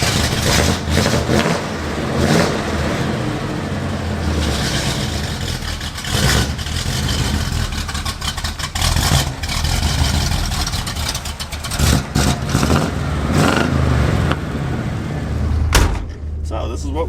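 A worn-out Oldsmobile 442 on a test drive, its engine rumbling and revving unevenly beneath frequent talk, with clunks and knocks scattered through and a sharp thump near the end.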